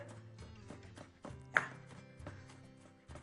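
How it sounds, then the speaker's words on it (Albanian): A knife chops an onion on a board as part of making polenta with prosciutto and sauce, giving quiet, crisp, evenly spaced cuts in a steady rhythm with one sharper knock partway through. "qepën, e pres, nuk dua ta kaloj fare në blender"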